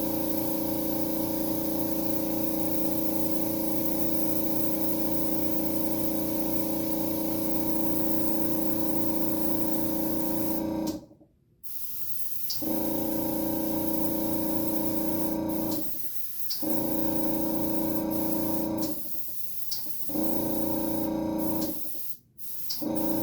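Airbrush spraying FX makeup, a steady close hiss of compressed air that runs continuously and cuts out in short pauses near the end.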